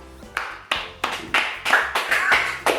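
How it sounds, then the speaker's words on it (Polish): A few people clapping by hand in a small indoor room, about eight separate sharp claps at an irregular pace, close and fairly loud, with no cheering. "Są i oklaski!"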